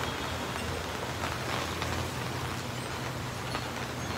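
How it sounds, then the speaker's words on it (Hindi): Heavy rain falls steadily in Gujarat, a continuous broadband wash with no pauses, with a faint low rumble that could be passing traffic beneath it. "यहाँ पे बहुत अच्छी खासी बारिश हो रही है।"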